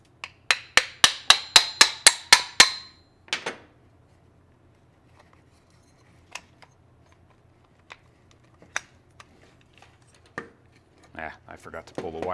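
A quick run of about eight sharp metallic taps from a small hammer on a STIHL FS 91R trimmer engine in steady rhythm, then scattered single knocks and clicks spaced apart, close by.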